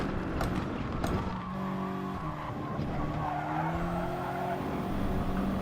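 A race car in GT Sport accelerates with an early upshift, its engine note climbing and stepping with tire squeal and skidding under it, fairly faint throughout.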